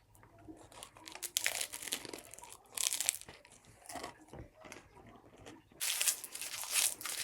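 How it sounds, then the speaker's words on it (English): Crunchy Taco Bell chicken taco supreme shells crackling and snapping under bites and chewing close to the mic, in bursts of brittle crunching separated by quieter pauses. "One crunchy chicken taco supreme complete."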